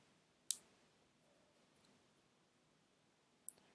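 Computer mouse clicking, two sharp isolated clicks about three seconds apart in an otherwise quiet room.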